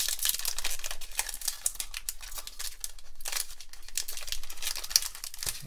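A foil trading card pack from a 2021 Mosaic Baseball hobby box being torn open, with close, continuous crinkling and ripping of foil wrapper that rises and falls in short bursts, no voices.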